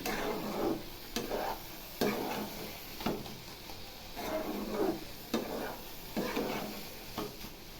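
Grated carrot halwa cooking in ghee is stirred repeatedly in a pan, giving soft scraping strokes at a regular rhythm over a low sizzle, close and fairly quiet.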